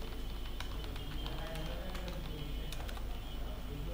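Computer keyboard keys typed at a steady patter while a ChatGPT prompt is entered, close and fairly clear over a low background hum.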